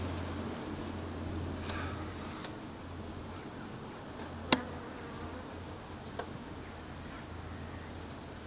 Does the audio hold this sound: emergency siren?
no